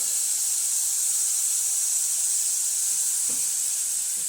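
Vegetables fry in a pan over a high flame, giving a steady, loud, even hiss that runs the whole time with no voices.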